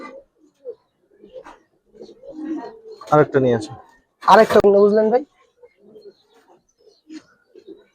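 Giribaz highflyer pigeons coo in low, throaty bursts, two of them loud and close, amid faint scattered calls. People talk nearby in Bengali.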